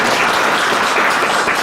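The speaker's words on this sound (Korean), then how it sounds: "우리 하나님께 감사와 영광의 박수 올려드리면 좋겠습니다" A church congregation applauds during a Sunday service, a short, loud, dense burst of many hands clapping together close by.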